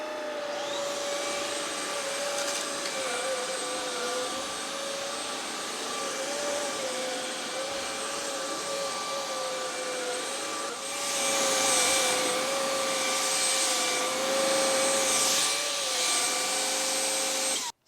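A Neakasa PowerScrub II wet-dry floor cleaner runs on carpet with a steady, strained motor whine and airy suction roar, getting louder and harsher partway through, with no one talking.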